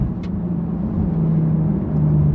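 A Porsche 992 Turbo S engine drones steadily from inside the car at speed, a low, even hum with faint wind and no talking.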